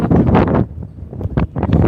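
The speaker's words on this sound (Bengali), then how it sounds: "মাই গড কি বাতাস" Strong wind gusting across a cattle farm on a rainy day, buffeting the microphone with loud, rough roaring bursts that dip briefly before surging again, with no one talking.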